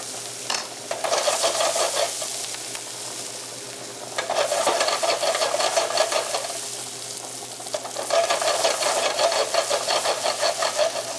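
Red onions fry in a hot pan, a continuous crackling sizzle broken by bursts of scraping as they are stirred, close and loud with no talking.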